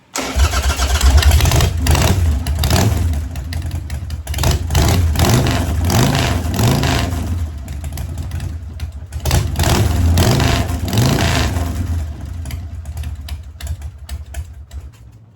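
A car engine running rich cranks, catches and runs rough and uneven, surging and dipping in a loud, steady drone close by for about fifteen seconds.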